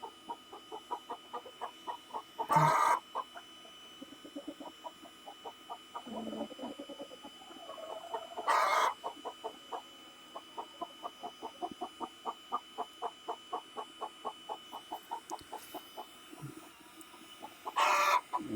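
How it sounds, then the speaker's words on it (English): A chicken on a cold-weather homestead clucks in steady quick repeated bursts for the whole stretch, with a few louder squawks breaking in, close and clear with no talking. "What's up, little chicken?"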